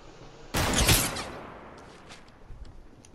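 A single loud, close hunting rifle shot in Fortnite cracks out sharply and rings down into a fading tail.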